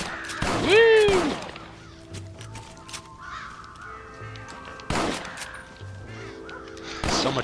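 Crows cawing in Red Dead Redemption, a loud harsh call near the start followed by scattered clunks and quieter game ambience, with further bursts of noise later.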